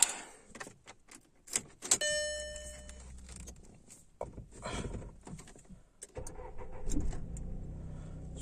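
Car engine starting after a jangle of keys and a few clicks and clunks, the cranking catching into a low idle that continues quietly at the end.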